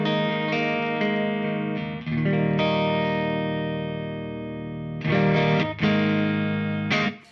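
An Engl Powerball 2 amplifier on a distorted tone, running through a Two Notes Torpedo into an Engl 4x12 XXL cabinet, plays loud sustained chords with a few brief pauses and restarts.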